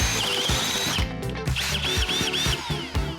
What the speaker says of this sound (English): stupid M12 drill is overheating, so I'm just running it here to cool it off